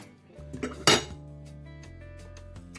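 A spoon stirring inside a slow cooker pot holding chilli con carne, then the lid closing, heard as a few clinks and scrapes followed by one sharp metallic clack, close and brief, with no talking.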